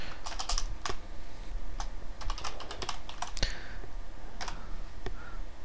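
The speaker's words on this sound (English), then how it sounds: "That was bad typing." Quick, uneven keystrokes on a computer keyboard, close and fairly soft, clicking in short bursts with small pauses between.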